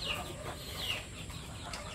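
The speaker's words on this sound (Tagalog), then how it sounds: "ang dami ng manok" Chickens kept on a rural farm in Iloilo province cluck in short, scattered calls over steady outdoor background noise, with no voices during the moment.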